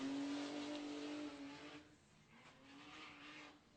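The number one Jimco desert race car launches at the Finke Desert Race, engine revving hard in a loud high whine that drops off after a second and fades as it pulls away into the distance.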